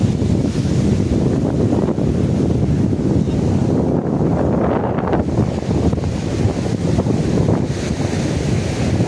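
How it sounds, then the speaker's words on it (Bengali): Ocean waves break into white foam on the shore at Juhu Beach, Mumbai, a loud, continuous surf roar with heavy wind buffeting the microphone throughout. "ঢেউগুলো পুরো সাদা ফেনার মতো হয়ে নিচে আছড়ে পড়ছে"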